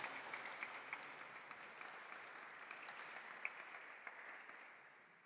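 Audience applause welcoming panel speakers at an academic startup conference in Berlin, a steady fairly distant wash of many hands clapping that gently fades toward the end, with no speech.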